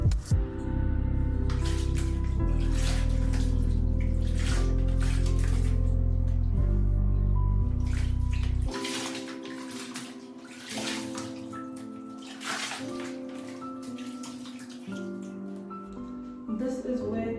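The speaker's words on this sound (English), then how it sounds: "Now I'm going to be rinsing the conditioner off." Water runs steadily from a tap or shower while conditioner is rinsed out of hair, a loud continuous rush for several seconds that turns quieter and more splashy and uneven as the hair is worked under the flow.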